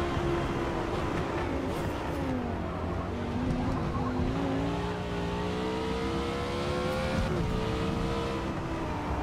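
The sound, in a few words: Audi race car braking and driving in Forza Motorsport video game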